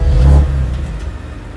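A BMW M2 Competition engine fires up via its red start button with a loud, close rev that peaks at once and then settles into a steady idle.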